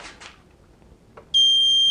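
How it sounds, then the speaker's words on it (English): A short pair of soft clicks, then a digital torque angle wrench's loud, steady electronic beep starts abruptly and holds continuously, close and piercing. "and then it beeps when it's 90, but you can see it's continuing to beep"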